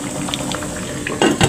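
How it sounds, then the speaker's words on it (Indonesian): Long beans boiling in a pot on a stove, giving a soft continuous bubbling hiss with small ticks and a couple of louder utensil clinks near the end. "ini kita lagi merebus kacang panjang"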